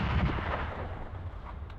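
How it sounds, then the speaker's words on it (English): A deep, heavy boom as a tank is hit by a shell and blows apart in battle, with a rumbling low-end roar that rolls on and slowly fades, dense and loud throughout. "Explosion."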